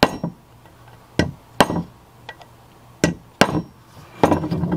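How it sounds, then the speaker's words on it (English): Sharp metal hammer strikes from staking the pump bushing of a Chrysler 727 transmission with a homemade staking tool, six distinct blows in uneven pairs and singles, close and loud against a quiet bench. "And then I take the tool that I made and I stake them."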